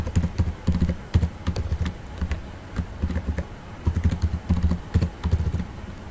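Close, uneven bursts of keystrokes come from a computer keyboard as someone types quickly into an online sign-up form, with short pauses between runs of clicks.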